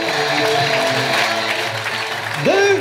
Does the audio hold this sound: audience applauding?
yes